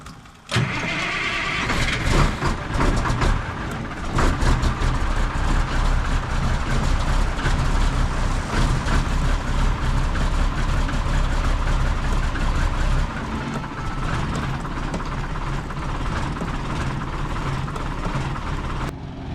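A tractor engine starts and settles into a steady, close diesel idle while warming up in winter salt conditions, a low continuous rumble with a slight drop in level partway through; no talking.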